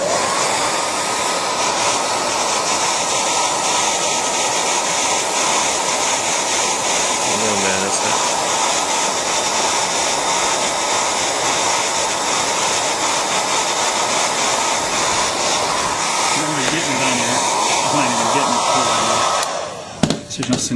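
Heat gun blowing hot air steadily onto an iPhone 3G during a touchscreen repair, a loud continuous whooshing roar close by that holds for the whole stretch before cutting off, with a voice briefly talking over it.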